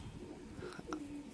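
Pigeons kept for about five years coo softly in a loft, with low murmuring calls rising and falling under a hum of background noise, fairly close but faint.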